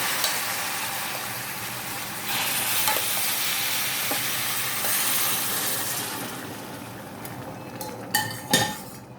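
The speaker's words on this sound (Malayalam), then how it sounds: "ഇനി ഇതിലേക്ക് നമുക്ക് വേവിച്ച് വെച്ചിട്ടുള്ള മട്ടൻ കൂടി ചേർത്ത് കൊടുക്കാം." Cooked mutton added to a curry with dried chillies, frying with a loud, steady hiss that swells as it hits the pan, easing toward the end before a few metallic utensil clanks; no voices.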